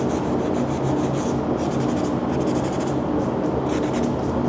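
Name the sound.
scrubbing flash rust off bare metal with red Scotch-Brite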